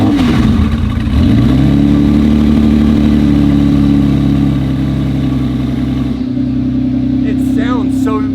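A rare, hand-built Bugatti fires up close by, cranking briefly before settling into a loud, steady idle with a deep, even drone. A voice comes in faintly near the end.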